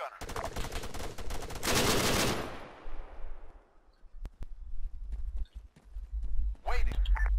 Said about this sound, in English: Contact. Machine gunner.